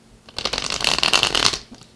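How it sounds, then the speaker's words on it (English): A Santa Muerte tarot deck being shuffled by hand: a dense, papery riffle of cards that swells to a steady, close flutter for about a second before tapering off, with no voices. "I'm shuffling this Santa Muerte deck here for the main spread"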